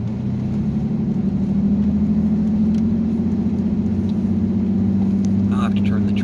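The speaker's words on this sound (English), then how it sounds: "I'll have to turn the truck so we can get a picture." A truck's engine hums steadily at low revs as it drives slowly along, a continuous droning rumble throughout with a few faint knocks near the end.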